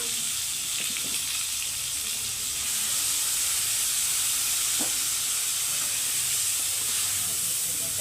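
Hot oil sizzles steadily in a pan as egg is added to a mutton fry. A continuous bright hiss stays close and even, with a few faint clicks and pops scattered through it.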